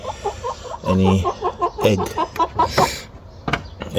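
Chickens cluck close by in quick, repeated bursts, with a few louder squawks mixed in among the steady pecking chatter.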